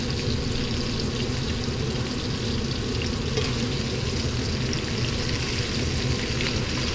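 A rib steak sizzles steadily in a hot pan, a dense, even crackle and hiss that stays loud and constant throughout with no talking over it.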